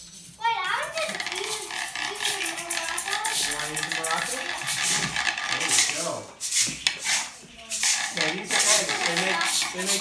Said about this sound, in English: They make sound just like the shakers.